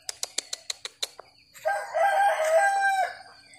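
A rooster gives a long, loud crow after a quick run of about eight short, sharp clucks from the flock of chickens; no voices, fairly close.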